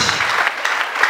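Congregation applause at a crowded church service in Nyamata, Rwanda: a short burst of dense, steady clapping from many hands, fairly close and continuous for the whole moment.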